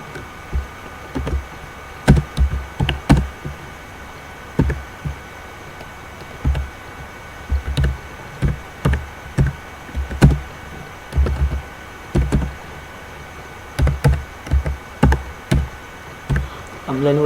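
Typing on a computer keyboard produces a series of close, crisp key taps in irregular bursts and clusters with short pauses between words.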